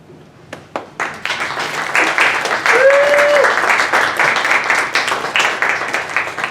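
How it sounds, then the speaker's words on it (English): An audience at a linguistics institute showcase applauds the instructors, scattered first claps building quickly into loud, sustained group clapping, with a brief voice and some murmuring underneath. "I would like to ask the instructors by standing up so that we can give them a round of applause."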